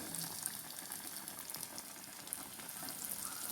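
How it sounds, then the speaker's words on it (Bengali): Crisp chicken pieces fry in hot oil, a steady, faint sizzle and crackle holding evenly throughout with no voices. "আমি তেলের মধ্যে ছেড়ে দিলাম"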